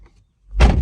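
A 6th gen Chevrolet Camaro door shuts with a single close, heavy thud near the end, after a brief near-silent pause.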